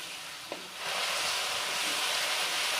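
Tomato sauce and other sauces being stirred in a hot pan for chilli cauliflower, with a steady loud sizzle and a faint scrape of the spoon near the start.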